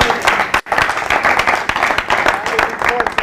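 A church congregation applauds the Lord, loud continuous clapping from a crowd with a brief dip, and voices mixed in.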